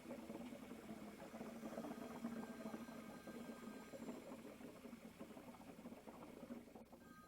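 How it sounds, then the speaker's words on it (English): Air bubbling back into the fluid tank of an Advantage Lifts hydraulic lift while its cylinder is bled, a steady low churning gurgle running continuously and fairly quiet, with a faint mechanical hum beneath. "the air is now bubbling back into this tank, letting me know that I am bleeding all the air out of the cylinder"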